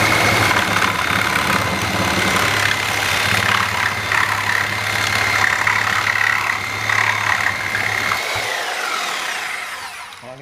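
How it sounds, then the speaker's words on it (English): Lenox 18 TPI bi-metal reciprocating saw blade cutting through wood with several nails in it, a loud, steady motor whine and rasping buzz close up for about eight seconds before the saw winds down. "Cutting wood with quite a few nails."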